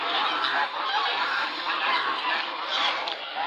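Two groups of geese honk continuously and loudly, each defending its own ground, many overlapping calls forming a dense, steady clamor throughout.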